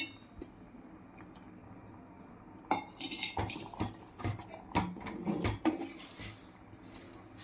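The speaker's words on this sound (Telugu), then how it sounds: "ఇలా రైస్లోకి వేసేసుకొని బాగా కలిపేసుకోవాలి" Ragi flour paste mixed into cooked rice for ragi sankati, quiet at first, then a run of close clinks and scrapes of a spoon against a vessel with uneven rhythm.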